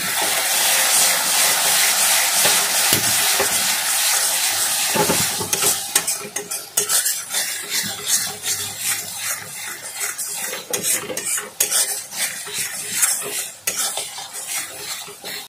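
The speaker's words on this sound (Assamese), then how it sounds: "এতিয়া মই মছলাৰ সৈতে মই ভালদৰে মই ভাজি ল'ম" Ground spices, garam masala and dry chilli powder, fry and get stirred in a wok for a fish masala. A steady loud sizzle runs throughout, with frequent scraping and clinking of a metal spatula against the pan, and no talk.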